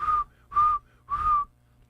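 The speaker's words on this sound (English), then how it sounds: "I can't whistle very good" Three short, breathy whistled notes on one pitch, evenly spaced, close and fairly quiet.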